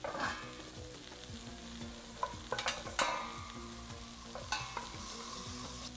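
Onions sautéing in a pan for a beef tagine with eggplants and chickpeas, a soft steady sizzle with several clinking stirs of a utensil against the pan, fairly quiet and close.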